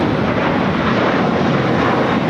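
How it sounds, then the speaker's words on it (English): An American Airlines Airbus A321 taking off from LAX for Dallas Fort Worth gives a loud, steady roar of jet engines at full power, broad and continuous with no voices. "This is American Airlines 3081 taking off to Dallas Fort Worth on the A321"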